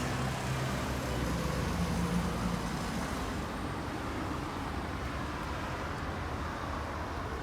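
Traffic passes on a city street at night in the Warrens business and commercial area of Barbados, a continuous broadband road rumble that swells early and then slowly fades as a vehicle moves away.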